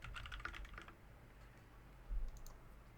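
Typing on an AJAZZ K870T mechanical keyboard: a quick burst of clicky keystrokes for the first second, then a few faint scattered key taps, close and alone.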